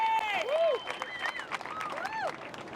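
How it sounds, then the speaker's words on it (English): A crowd at a surfing competition applauds steadily, with loud whistles and cheers rising and falling over the clapping. "One last round of applause for our finalists"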